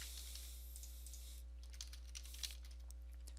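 Typing on a computer keyboard on a Windows 10 PC, several quick soft key clicks close up and quiet, starting after a stretch of near silence with a faint steady hum underneath.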